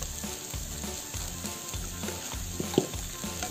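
Tuna and spice mix sizzling steadily in a pan while being stirred, with soft scraping strokes over a continuous close frying hiss.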